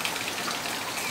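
Steady rain falls during a summer storm at an outdoor music festival, a continuous hiss of drops spread evenly without pause.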